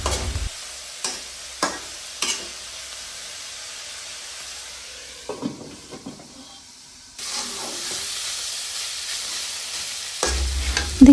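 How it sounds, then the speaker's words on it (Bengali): Flat beans (sim) stirred and fried in a pan: scattered scraping stir strokes early, then a steady sizzling hiss of frying that swells later, ending with a clatter. "এভাবেই নেড়ে চেড়ে ঢেকে দিয়ে আরও কিছুক্ষণ রান্না করে নেব"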